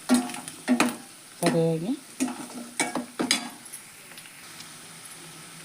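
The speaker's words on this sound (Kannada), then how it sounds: "ಇದು ಫ್ರೈ ಆಗಲಿದೆ ಎಣ್ಣೆ ಒಳಗೆ 2 ನಿಮಿಷ." Potato gravy with tomato sizzles in oil in a pan while a spoon stirs and scrapes it, a few clinking strokes over a soft frying hiss, with a brief spoken word.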